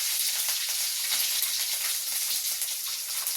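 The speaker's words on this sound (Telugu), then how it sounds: "శనగ, పెసరపప్పు, పల్లీలు అయితే మంచిగా వేగాయి" Chana dal, moong dal, peanuts and green chili fry in hot oil, giving a steady, close, dense sizzle that holds at an even level throughout with no talking.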